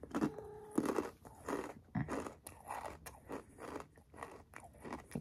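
Takis Nitro spicy rolled tortilla chips are bitten and chewed close up, a run of sharp crisp crunches that fades into steady, softer munching.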